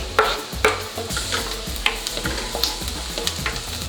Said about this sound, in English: the garlic will need about 30 seconds to a minute before I add the spinach to the pan